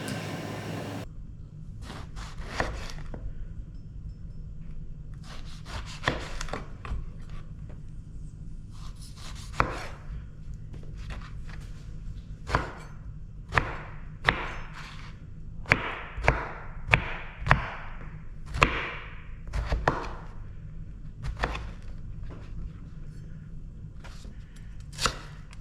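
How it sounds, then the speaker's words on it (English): A knife dices aubergines on a cutting board, sharp repeated chops landing in irregular bursts, close and distinct against a quiet room. "we're going to be dicing up the aubergines and we'll be roughly cutting the onions"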